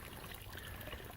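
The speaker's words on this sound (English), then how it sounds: "we're making sure we got our water supply filled up for the day" Water trickles steadily from a water source into a hiker's container while filling up supplies on a trail, a soft, continuous, faint dribble with no voices.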